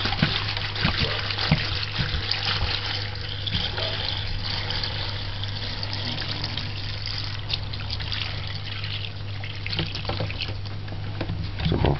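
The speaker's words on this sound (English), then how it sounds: "Pour the water over it." Water poured over sorrel in a large container, a steady, close splashing and trickling that runs unbroken from start to finish with no talking.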